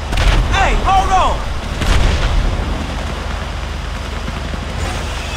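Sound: tank cannon fire in the video game GTA V

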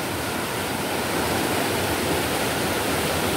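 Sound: sudden flash flood surge of a river

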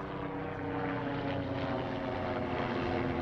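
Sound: helicopter flying overhead

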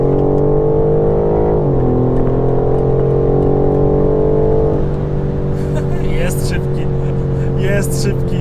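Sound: BMW M4 Competition car accelerating

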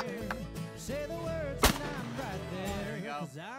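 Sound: shotgun fire during trap shooting

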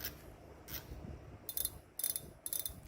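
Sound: fishing reel clicker ratchet clicking into place

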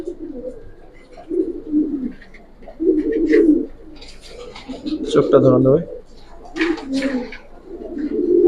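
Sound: Giribaz pigeons of Palla line cooing

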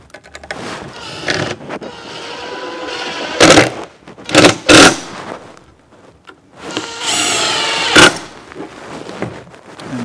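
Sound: drill with countersink bit drilling holes in bluebird house roof

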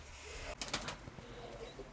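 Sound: pigeon cooing

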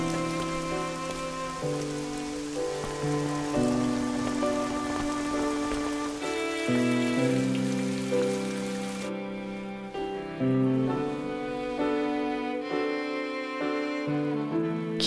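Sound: rain

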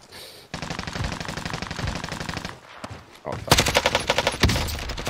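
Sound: gunfire in Call of Duty Warzone video game

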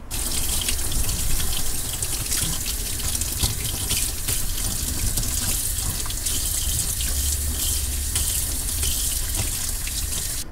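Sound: water running from tap to wash fish for sashimi

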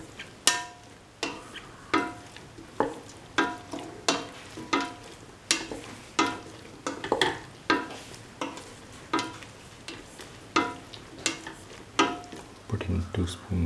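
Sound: stirring and frying eggplant rice in a pan

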